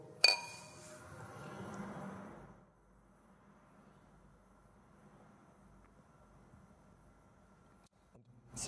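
Beer glasses clink together in a toast during a beer tasting, a bright ring at the start that fades out, followed by quiet room tone and a second faint clink at the end.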